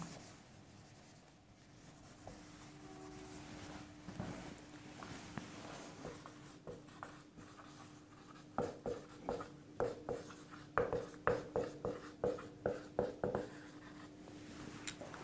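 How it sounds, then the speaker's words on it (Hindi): Chalk taps and scrapes across a board as a physics teacher writes during a class, with scattered strokes at first and then a quick run of sharp clicks, all close and without talk. "यहां पे मैं लिख देता हूं एंगुलर डिस्पर्शन"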